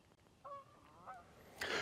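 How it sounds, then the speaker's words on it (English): Geese honk in two clear calls, close and fairly loud, separated by a short gap, with a louder burst of noise closing out the moment. "these are my geese friends"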